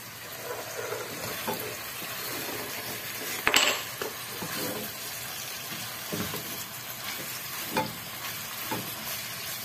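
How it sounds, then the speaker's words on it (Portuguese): Chicken sautés in a pan for a dish with pequi, a steady close sizzle and frying crackle with the occasional clink and scrape of stirring. "Vamos refogar bem aqui."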